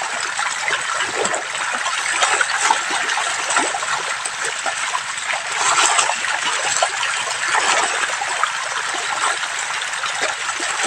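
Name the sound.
milkfish splashing in water while feeding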